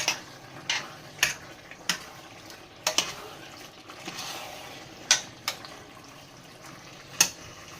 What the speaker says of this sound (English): You don't have to mix the spaghetti with it